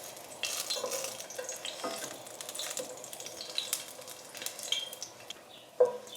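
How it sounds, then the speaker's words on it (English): Two garlic cloves fry in a quarter cup of extra virgin olive oil, giving a soft, close sizzle with scattered stirring and utensil clicks and a sharper tap near the end. "heat up 1/4 cup of extra virgin olive oil. Add the 2 garlic cloves and wait until they turn golden"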